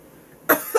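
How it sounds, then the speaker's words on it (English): Single short cough in a library, sharp and close after a quiet moment, followed by a faint second burst. "Oh, so I'm not allowed to cough now."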